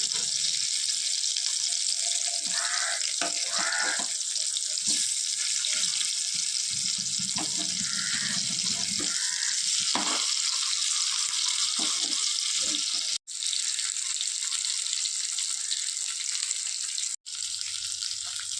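Kolan fish fries in hot oil with a constant sizzling hiss and a few soft clatters from the pan. There is no talking.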